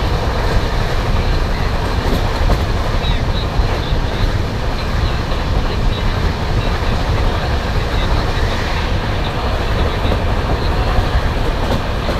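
A passenger train rolls steadily along the rails in India, a dense continuous rumble and clatter with rhythmic wheel clicks, loud and close throughout, as if heard from on board, without speech.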